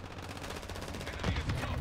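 Rapid automatic gunfire from a Call of Duty match, probably a TAQ 56 or 556 Icarus, rattles in dense bursts that grow louder toward the end, with game ambience behind.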